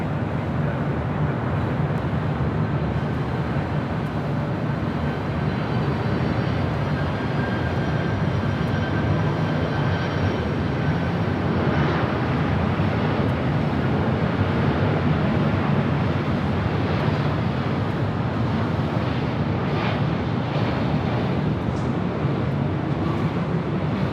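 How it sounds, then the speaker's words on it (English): A Delta 767 arriving from Honolulu at Los Angeles International Airport, a broad, steady jet roar that fills the whole stretch at a constant loud level with no voices. "Right up next on the north side, the Delta 767 coming in from Honolulu"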